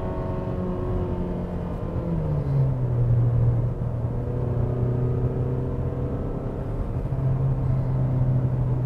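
Mazda CX-5 with a 2.5-litre engine and six-speed automatic, revving hard in manual mode up to its 6250 rpm fuel cut: a steady droning engine note climbing, dipping, then holding at the limiter, close and continuous with no talk.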